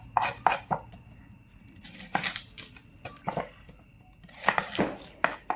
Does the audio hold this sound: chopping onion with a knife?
yes